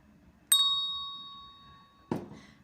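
A notification bell dings twice with a bright metallic ring. The first strike rings out and slowly fades over about a second and a half, then a second, duller ding cuts in. Both are clear against a near-silent background.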